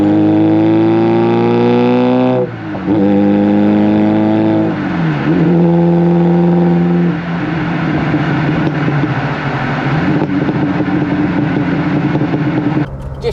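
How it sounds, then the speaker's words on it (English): A VW Mk1 Caddy engine on twin Weber 45 carburettors revs loudly and close, rising and falling through several throttle blips with a raspy, smooth intake note. "it's running quite nice. Carbs are absolutely spot on. Carbs definitely sing."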